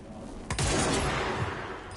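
A gun in the video game Control lets off a sudden loud blast, a second report following almost at once and merging into a sustained booming roar that fills the rest of the moment.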